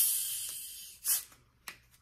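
A freshly opened cola drink fizzes and hisses, with a steady carbonation hiss broken by two sharper bursts of spray, close up and with no talk.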